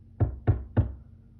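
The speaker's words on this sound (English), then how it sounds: "And he knocked on the door." Three firm, evenly spaced knocks on a door, close and solid with a deep wooden thud, heard alone in a quiet room.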